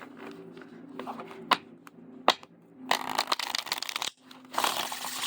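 A deck of linen-finish oracle cards is shuffled by hand up close, with soft riffling and sliding bursts broken by sharp taps and brief pauses, fairly quiet overall.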